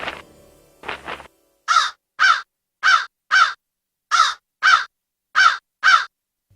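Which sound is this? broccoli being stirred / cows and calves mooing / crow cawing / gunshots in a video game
crow cawing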